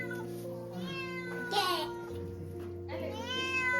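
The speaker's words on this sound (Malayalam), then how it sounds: "കിത്തുവിന്റെ പൂച്ചയെ കാണട്ടെ." A domestic cat meows several times at close range in a home, its drawn-out, wavering cries rising and falling, with a voice nearby and other household voices in the background.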